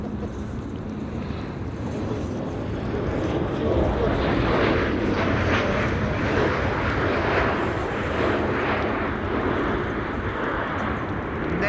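An airplane lands at a windy Amsterdam Schiphol Airport, heard as a steady, broad engine roar that swells slightly and holds for several seconds, mixed with wind noise and faint talk.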